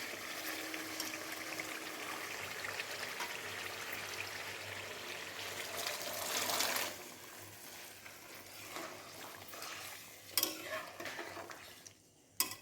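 Boiled peas and potatoes go into a pan of mutton keema ghugni, giving soft scraping, stirring and wet tumbling sounds. The sounds are faint and close, with a fuller pour midway and a few sharp utensil clinks near the end.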